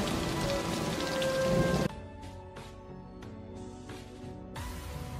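Heavy rainstorm in a jungle film scene: a loud, dense downpour roars steadily for about two seconds, then cuts to a quieter passage with sustained tonal background sound.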